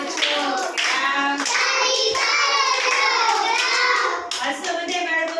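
Young Anganwadi schoolchildren clap along during an action song, with rhythmic hand claps under loud, steady group singing of children and a teacher throughout.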